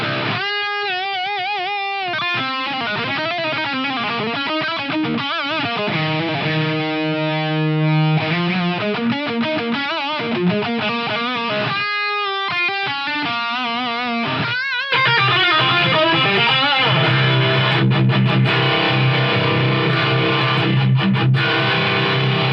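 Electric guitar played through an Atomic CLR Neo MKII FRFR cab with reverb, loud distorted chords and single notes with sustained ringing tails, then a shift partway through to a roomier, washier captured sound; no talking.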